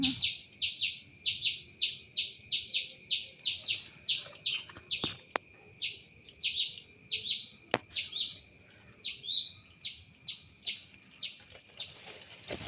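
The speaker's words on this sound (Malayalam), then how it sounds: "കിളികളുടെ നല്ല സൗണ്ടാണ് കേട്ടോ" Birds chirp in quick repeated bursts close by in a guava tree with ripe fruit, bright tweets coming in a steady rhythm with a few sharp clicks between.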